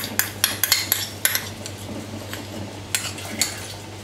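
A spoon clinks and scrapes against a bowl while mustard goes in for a tartare-style meat mixture, with a handful of sharp, close metallic taps in quick clusters over a low steady hum and no talking.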